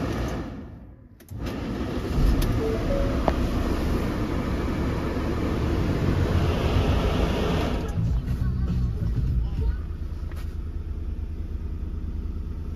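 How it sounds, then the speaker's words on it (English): A 2017 Ford Transit 350 rear-wheel-drive dropside cab starts up with a short crank, then settles into a loud, steady diesel idle that rumbles on close by for the rest of the time. "Start the motor."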